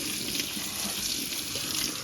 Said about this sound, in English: let's wash our chilies.